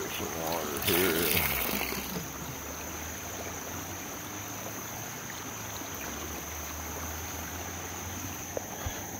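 Water sloshes and pours as it is tipped out of a Garrett gold pan, a steady rushing wash over a constant background hum.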